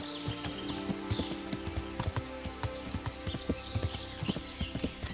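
A horse's hooves clip-clop steadily along a trail in a video game, rhythmic and close, with a brief whinny near the start over quiet ambient sound.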